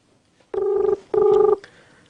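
A telephone call is being placed: two long, even electronic tones separated by a short gap, then a fainter tone, clear and alone.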